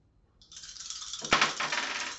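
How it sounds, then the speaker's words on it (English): Dice rolled during a tabletop board game, a single sharp rattling clatter on a hard surface followed by a brief tumbling rattle, close and fairly loud with no talk. "I rolled 9 on the dice"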